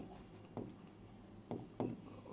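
Handwriting on a surface gives faint scratchy strokes in a few short bursts spaced apart, close but quiet, with no talking.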